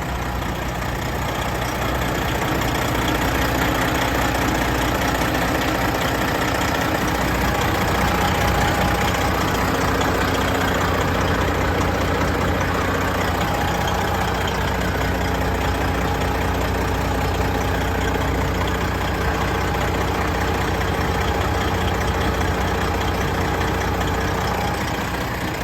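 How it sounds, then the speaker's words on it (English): The worn diesel engine of a 2015 Kenworth W900L pre-emission glider truck runs with heavy blow-by, a continuous, loud, low idling rumble that holds steady throughout, with no speech. "A little bit on the heavier side of moderate on blow-by, which is to be expected, knowing that it's got some miles on the engine."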